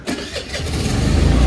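A scooter engine cuts out and then fires back up, its mid-pitched running sound building steadily and staying loud and close to the end with no talk over it.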